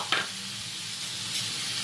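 Rice for egg pulao is stir-fried in a pan with a steady soft sizzle, plus a brief scrape of stirring near the start.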